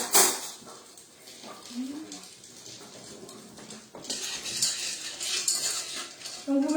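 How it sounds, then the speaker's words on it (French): A clean spoon clinks and scrapes against a pan while stirring melting chocolate on the stove, with several metallic taps and a louder rattle near the end over a quiet kitchen background and a brief voice. "je prends une cuillère propre pour mélanger mon chocolat"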